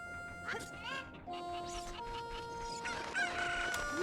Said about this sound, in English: I must grab more cuckoos.